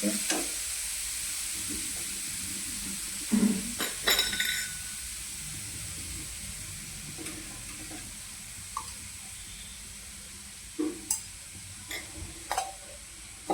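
Soft frying hiss with occasional clinks and scrapes of a utensil stirring grated beetroot and carrot in a wok, a few sharper taps scattered through.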